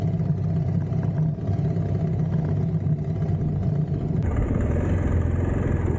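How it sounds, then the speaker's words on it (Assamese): Motorcycle riding along a riverbank, its engine humming steadily and fairly close with a constant low drone that shifts in tone near the end as wind and road noise rise. "এতিয়া বাইক চলাম"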